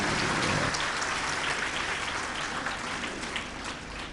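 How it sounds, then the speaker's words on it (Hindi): An audience at a Jain religious sermon keeps clapping in a thick, rain-like wash of many hands, loudest at the start and slowly thinning and fading over several seconds, with no talking. "नहीं है तो बजाओ तालियां चलिए।"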